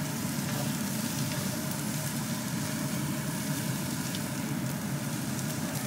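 Cabbage and carrot stir-frying in a hot pan, giving a steady, continuous sizzle and crackle with no pauses, close by and fairly loud throughout.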